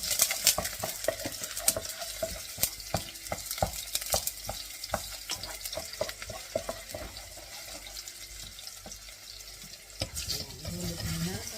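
Garlic sautéing in oil in a pan before mushrooms go in, a continuous close sizzle broken by repeated sharp scrapes and clicks of a spatula, with a brief watery splash near the end.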